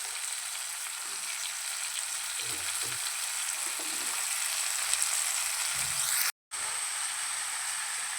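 Pieces of soursop fry in a hot pan for a Kerala-style roasted-coconut soursop curry, giving a loud, close, constant sizzle. Faint stirring scrapes run underneath, and near the end there is a brief cut to silence before the frying resumes.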